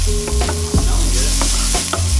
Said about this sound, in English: Moving it around because you don't want the shallots and garlic to burn